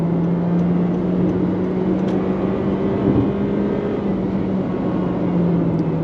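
A 2023 Honda HR-V subcompact crossover SUV accelerates under throttle, heard from inside as a steady, droning engine and road hum that holds at an even loudness, with a low tone slowly rising in pitch.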